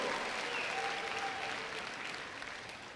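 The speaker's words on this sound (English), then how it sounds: "One last round of applause to the class of 2026 Valedictorian, Shiloh Caleb." A graduation audience at a 2026 high school commencement applauds steadily for the valedictorian, a broad dense wash of clapping that holds strong for about three seconds and eases slightly toward the end, with no talk over it.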